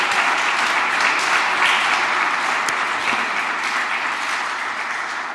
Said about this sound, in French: je vous demande de bien les applaudir pour remercier leur travail